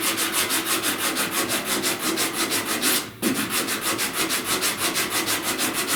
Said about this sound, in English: so I'm going to sand over here